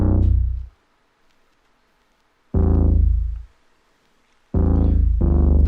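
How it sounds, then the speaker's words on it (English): R&B beat bass sample processed only with EQ, deep sustained low notes played three times with silent gaps between, loud and upfront, nothing else present. "Then last but not least, we got this bass."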